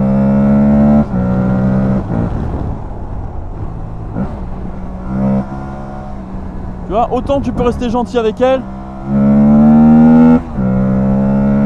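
An Aprilia Tuareg 660 motorcycle engine hums and throbs steadily on a mountain road at the Espigoulier pass, then revs up sharply near the end, while someone talks over it for most of the time.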